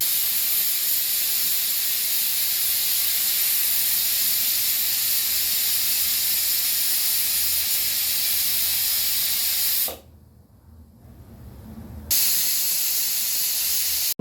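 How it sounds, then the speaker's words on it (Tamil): Pressure cooker cooking mint pulao gives off a loud, steady steam hiss that runs for about ten seconds, stops abruptly for two seconds, then resumes with no talk. "இது இப்போ குக்கர் இது போட்டு மேலே மூடியை போட்டு மூடிட்டு 3 சவுண்டு வந்தோடனே ஆஃப் பண்ணி எடுத்துட வேண்டியது தான்."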